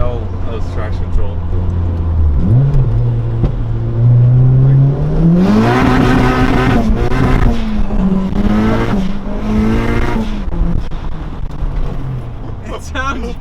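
Turbo Honda Civic engine pulling hard through the gears on the street, a loud close rising drone that dips at each shift and climbs again, with voices talking over it inside the car.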